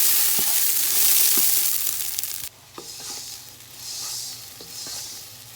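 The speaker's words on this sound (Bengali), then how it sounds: "এখন রাইসটা একদম কমপ্লিটলি ভাজা ভাজা হয়ে গেছে" Rice frying in a pan while being prepared for biryani, a loud continuous sizzle with occasional stirring scrapes; the hiss drops abruptly midway, then carries on more softly with intermittent stirring.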